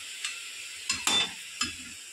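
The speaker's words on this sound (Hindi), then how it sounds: "फ्राई हो रहा है।" Puri frying in hot oil in a home kitchen, a steady faint sizzle underlaid by a few short louder spatters and stirring clinks, close by, with no talking.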